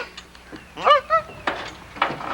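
A man mimics a goose with his voice, giving a few short nasal honks in quick succession, close and fairly loud, with small pauses between calls during a fishing tour.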